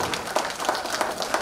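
Wedding guests applauding the families at a reception, a dense, even patter of many hands clapping together in a room, moderately loud and continuous.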